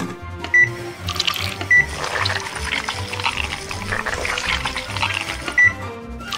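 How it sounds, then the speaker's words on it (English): Blended ice cream mix is poured into a popsicle mold, giving a continuous liquid pouring and filling sound, broken by a few short electronic beeps. "Now I'll pour it into the mold and freeze it"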